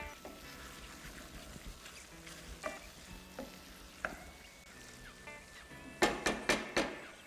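Chicken pie filling simmering in a pan after heat is lowered, soft bubbling and gentle sizzle with scattered stirring clinks, then a quick run of sharp metallic taps near the end, no talking.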